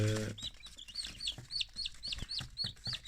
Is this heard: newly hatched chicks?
yes